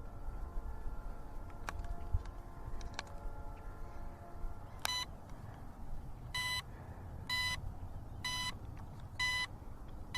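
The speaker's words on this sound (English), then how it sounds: "Controller's beeping." A Holy Stone HS720R GPS drone's remote controller beeping during return to home: a few isolated tones early on, then a regular series of five short, evenly spaced beeps over a low outdoor background, with no talking.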